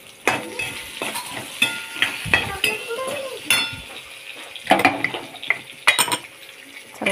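Washed, cut okra hits hot oil with roasted mustard seeds in a pan and is stirred: steady sizzling frying under repeated scraping, clinking stirs of a utensil against the pan, close and fairly loud.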